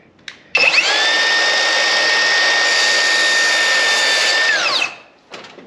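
A miter saw cuts a wooden face frame piece in one loud continuous whine of about four seconds, spinning up sharply and winding down at the end, close by with no talking.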